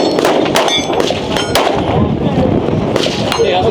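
Repeated pistol gunshots from an Alpha Foxtrot 2011 Romulus with a compensator at a SHOT Show range, sharp cracks several times amid loud ambient range noise and other shooting nearby.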